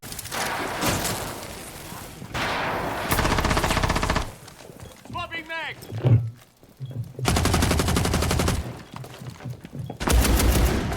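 Rapid automatic gunfire in Rainbow Six Siege, coming in several loud sustained bursts separated by brief pauses and quieter game sounds.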